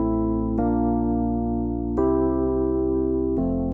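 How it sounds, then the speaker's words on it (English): Piano chords recorded from a MIDI keyboard for a drum and bass track, three sustained chords changing at even intervals, each held and ringing clearly with no voices. "So now we've just recorded some with the piano here."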